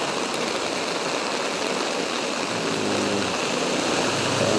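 Floodwater rushes steadily through a flooded street in Palaris, a continuous loud broadband roar like a stream or small waterfall, with no voices.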